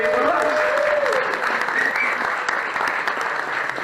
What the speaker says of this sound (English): Please give all those folks a great round of applause